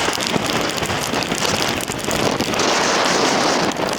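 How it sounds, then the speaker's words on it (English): Heavy rain from Tropical Storm Isaias in Connecticut hisses loudly and continuously, with gusting wind buffeting the microphone close up and no speech. "Now it's raining again."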